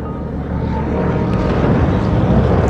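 Bomber planes fly over a small town in wartime, a heavy droning rumble that builds slightly in loudness as they pass, with no talking.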